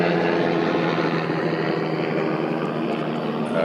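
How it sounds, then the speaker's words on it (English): A steady, loud mechanical drone with a whirring beat holds throughout, like a helicopter passing overhead, with no talking. "I'm gonna let this helicopter pass by."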